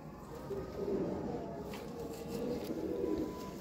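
Teddy pigeons coo softly on a rooftop in Sialkot, a low steady murmur of several birds close by, with faint background noise and no talk.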